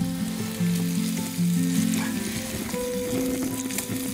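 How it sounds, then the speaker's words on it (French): Trout fries in butter in a pan with a dense, loud, continuous sizzle, with tuneful background music running underneath. "Donc là, mon poisson commence à bien dorer."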